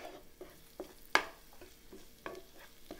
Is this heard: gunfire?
no